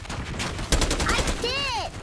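Short bursts of gunfire in Call of Duty: Black Ops 6, quick sharp shots fired close by over a busy game background, with a voice speaking briefly.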